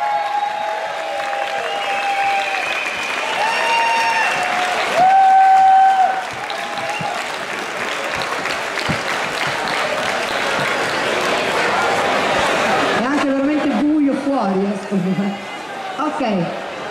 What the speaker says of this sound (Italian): applauso da Karlsruhe, Florian Hess e la Alex Leist.